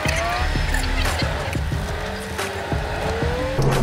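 A Porsche Cayman S or Nissan GT-R on the Lohéac circuit brakes hard, engine note dropping through downshifts with short tyre squeals, loud and close from inside the car.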